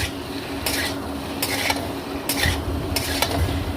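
Spiced white potato curry with cumin, coriander and ginger paste is stirred in a pan, with regular scraping strokes of a utensil over a soft background sizzle, close up and with no talking.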